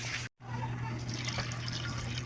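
Water is poured into a cooking pot for a coconut-milk fish soup with malunggay, a steady, close splashing rush broken by one brief cut.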